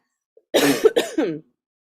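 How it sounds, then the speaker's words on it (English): A single close, rough cough burst, quick and throaty, breaking into two or three short hacks in an otherwise quiet room. "My cough has been fine all day, and then as soon as I start talking a lot, it just goes crazy."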